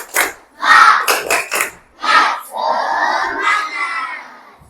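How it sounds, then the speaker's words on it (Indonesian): A school class performs a 'tepuk semangat' clapping chant, children shouting in bursts of rhythmic claps and chanted calls, loud and close, following a teacher's lead. "sebelum itu kita tepuk semangat dulu biar kalian lebih semangat."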